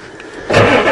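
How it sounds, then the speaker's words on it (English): Diesel truck engine cranking over after a failed glow controller repair: quiet at first, then a loud, sudden catch into a rough, steady running roar, close by, with no speech. "Now let's see if it restarts."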